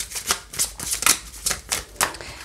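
A deck of cards is shuffled for a card reading, giving a series of crisp riffling bursts roughly every half second, close and clear with no talking.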